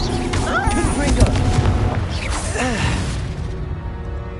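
A Confringo fire spell in the Hogwarts Legacy video game bursts with a loud rumbling boom and whooshing blast, followed by swirling magical tones fading out, while character voices call out over the effects.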